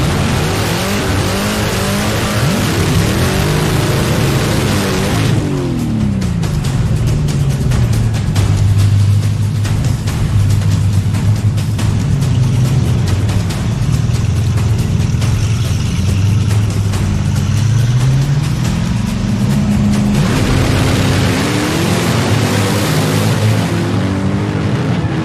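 Drag race between a 1955 Plymouth Savoy and a Hellcat Challenger: loud engines roar and rev with rising and falling pitch sweeps, tires squeal, and a sustained high-revving run stretches across the middle before fading back.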